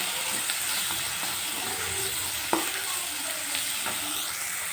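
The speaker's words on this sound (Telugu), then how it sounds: "సరిపడా సాల్ట్ అంతా వేసేసి బాగా ఫ్రై చేసుకోవాలి" Spices, chili powder and salt frying in a pan for egg curry, a steady close sizzle and hiss with a few faint scrapes of a spoon.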